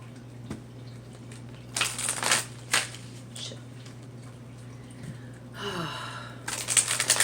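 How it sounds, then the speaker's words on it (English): A deck of cards is shuffled quickly in a few brisk riffling bursts, two early and one at the end, over a quiet room tone with a steady low hum. "do a good shuffle really quickly"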